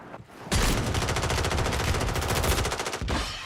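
Sustained automatic gunfire from an enemy team in Call of Duty Warzone, a dense rapid rattle of shots running unbroken for about two and a half seconds, loud and close, then cutting off abruptly.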